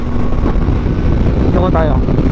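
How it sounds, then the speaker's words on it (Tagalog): Strong wind roars and buffets the microphone in a loud, continuous rush while riding a 2023 Yamaha XSR900 naked bike with an Akrapovic exhaust, a brief engine whine rising near the end. "Lakas ng hangin."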